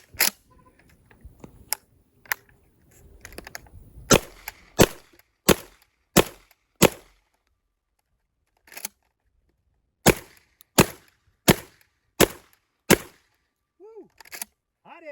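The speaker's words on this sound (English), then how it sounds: "So I'm going to run 15 rounds downrange at about 5 yards" A Tavor TS12 shotgun fires express ammunition downrange at about five yards, giving roughly fifteen loud, sharp blasts, unevenly spaced and separated by near silence, with a brief pause midway through the string.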